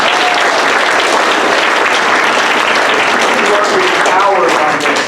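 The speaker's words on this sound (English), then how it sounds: "a round of applause" An indoor audience at a professional development session breaks into sustained applause, loud and even throughout with no talk over it.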